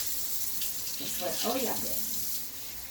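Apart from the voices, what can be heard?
cold water running from a tap into a measuring cup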